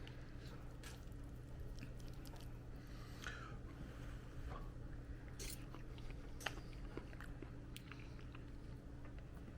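Someone eats homemade O'hana-style noodles from a bowl, with soft, wet chewing and slurping bites repeating close up over a steady low background hum, no talking.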